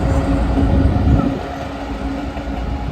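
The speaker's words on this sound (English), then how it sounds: "Here we have a double pairing of Class 66, 66015 and 66027." Two coupled Class 66 diesel locomotives running light through York station roar past loudly and close, a steady heavy engine rumble with rail noise throughout.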